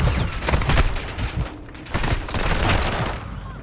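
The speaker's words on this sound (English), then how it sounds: "Somebody's sniping at me from like way deep." Distant sniper rifle shots ring out in Call of Duty Warzone on Ashika Island, several sharp cracks with rolling echoes spread across the stretch against a busy battlefield background.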